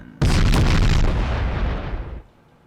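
A main battleship cannon in the video game Space Engineers fires one heavy blast, an abrupt loud boom followed by a long rumbling decay of about two seconds that fades out.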